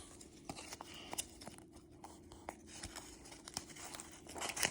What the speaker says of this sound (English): you want to get another piece of tape and just tape the end off